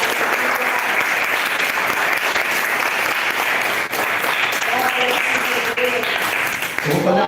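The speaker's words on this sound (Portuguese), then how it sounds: "Dá uma salva de palmas para Jesus." A church congregation bursts into sustained, dense applause during a worship service, a steady roar of many hands clapping for several seconds, with faint voices surfacing near the end.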